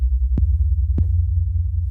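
A deep, sustained 808 bass tone wavers in a slow wobble from overlapping notes, with two sharp clicking hits cutting through it.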